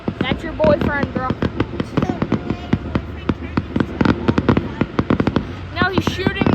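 Fifth of July fireworks crackling in dense, rapid volleys of sharp pops and bangs, loud and continuous, with voices shouting and talking over them.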